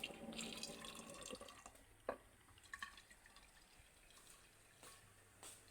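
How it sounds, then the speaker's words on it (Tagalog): Hot water pours and splashes into a cooking pot for about a second and a half, then a few soft drips and clinks fade into quiet room noise. "Lagyan ng mainit na tubig."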